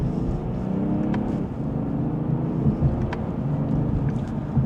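A 2025 BMW 840i Gran Coupe in sport mode pulls hard in second gear of its 8-speed, heard from inside as a steady, heavy engine drone with road rumble and a few faint clicks.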